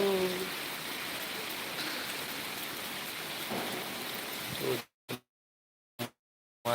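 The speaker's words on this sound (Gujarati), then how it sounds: "અચાનકથી ધોધમાર વરસાદ પડી ગયો છે" Heavy rain pours steadily in Ahmedabad for several seconds, a dense hiss, then cuts off abruptly into silence with a couple of short bursts.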